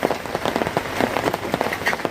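Steady rain falls outdoors during a downpour, a dense, close pattering of drops spread evenly with no pauses.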